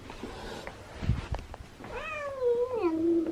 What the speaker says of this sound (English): all of a sudden, Ziggy starts meowing